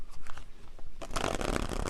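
Tarot cards are shuffled, starting with a few soft, scattered riffles and then breaking into a dense, loud burst of rapid flicking and slapping card noise up close.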